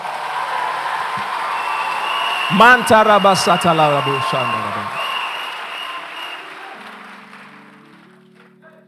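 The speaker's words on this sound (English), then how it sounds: "Clap for Jesus Christ." A church congregation at a Sunday service claps and cheers in a broad wash of applause, while a voice rises briefly over it in the middle before the noise slowly fades.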